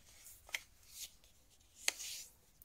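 Paper envelope folds being creased by hand for a handmade advent calendar craft, heard as a few soft, brief crinkling presses spaced apart, quiet and close with no talking.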